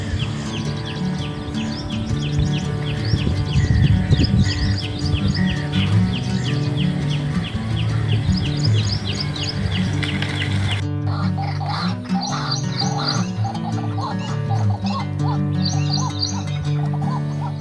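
Birds flying over a city chirp continuously, with quick, repeated high tweets running through the whole stretch over a dense, steady background and a noticeable shift in the mix partway through.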